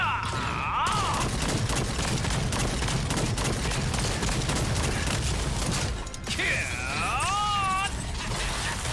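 Sustained battle noise from the Artillerist's rocket launcher in the video game Lost Ark, a dense continuous barrage of blasts and rumble with whistling tones, loud throughout.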